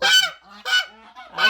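Large pet guard goose honks three times near the microphone, loud nasal calls with short quiet gaps between.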